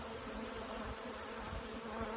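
Honey bees buzz in flight on a cold early-spring day at a Canadian honey farm, a steady, dense hum of many insects without pause, moderately quiet and with no talk.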